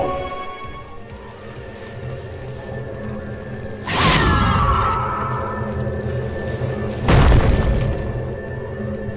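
A tower collapses in the Dota 2 video game with two heavy booming crashes, breaking debris scattered over a steady game soundscape, loud and close, with no talking.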